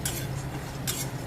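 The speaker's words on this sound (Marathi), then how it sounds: "शेंगदाणे, मुठभर शेंगदाणे कढई चांगली तापली, आपण ते भाजून घेऊ" Peanuts being dry roasted in a hot kadhai while stuffed bitter gourd is prepared: a steady low hum with two bright bursts of scraping and rattling as the nuts are stirred against the metal pan, close and fairly loud, with no talking.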